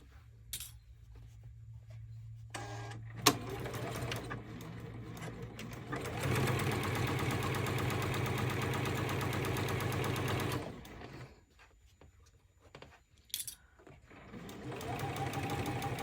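A sewing machine runs in steady bursts while stitching a zippered fabric pouch with a zipper foot, a close, even mechanical whir that starts, pauses briefly and resumes, with one longer continuous run in the middle.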